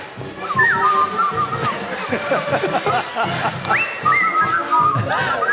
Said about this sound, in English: Oh, he's whistling.